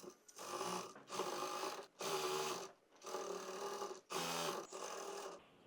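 A sewing machine stitches thin lace onto a three-layer daily-wear skirt cut from suit fabric, running in five close bursts of rapid mechanical whirring separated by short pauses, with no speech.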